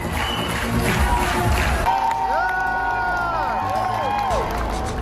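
Fans at a screening of the film RRR in Los Angeles cheer, shout and sing along in a lively, continuous crowd din, with several loud voices rising above the general noise.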